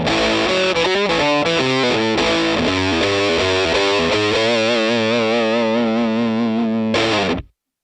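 Electric guitar through a HeadRush Pedalboard amp rig with distortion, playing a loud, dense run of rapid chugging chords and riffs, thick and sustained, ending in an abrupt cutoff, close with no talk.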